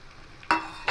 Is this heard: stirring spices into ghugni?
yes